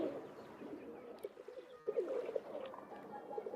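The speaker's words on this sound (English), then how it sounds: "These pigeons are bugging me. They're so loud." Pigeons coo repeatedly in the video game Nancy Drew Danger by Design, soft rolling low calls overlapping in a continuous murmur at moderate volume, with no talking.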